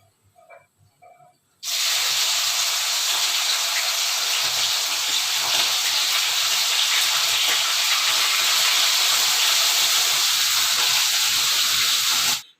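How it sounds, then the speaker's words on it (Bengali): Fish dropped into hot oil in a kadai bursts into a loud, steady, hissing sizzle that holds at full strength for about ten seconds before stopping abruptly, after a few quiet clinks. "আর এখন মাছগুলো ভেজে নিই আগে।"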